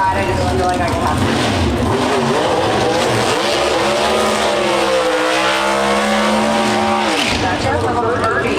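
A Pro Stock drag race car launching at the NHRA Route 66 Nationals in Chicago, a loud, close engine roar whose pitch climbs and shifts through gears, with commentators talking over it throughout.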